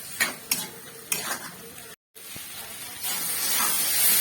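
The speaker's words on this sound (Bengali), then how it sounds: "ততক্ষণ আমি একটুখানি নেড়ে ছেড়ে ভালো করে রান্না করে নেবো এটাকে।" Poppy seed paste being stirred with potatoes frying in a pan: sharp scraping strokes at the start, a brief gap, then a steady, rising sizzle and hiss with no talking.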